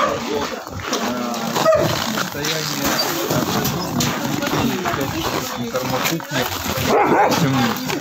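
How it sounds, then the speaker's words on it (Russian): A dog barks in short repeated bursts, fairly close, mixed under continuous talk from a man outdoors near a fenced enclosure still under construction. "Разве истощенный так лает?"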